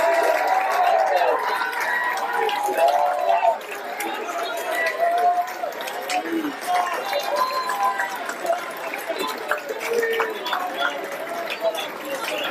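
Banquet audience at a tennis awards dinner applauding assistant coaches, a steady crowd noise with clapping and chatter throughout, voices and cheers mixed in.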